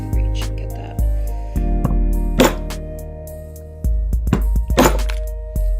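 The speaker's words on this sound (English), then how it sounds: "I need a heavier maul" A heavy maul strikes leather laid over a scrap board, landing several loud, sharp thunks spaced irregularly over a low background hum, with the blows close and punchy.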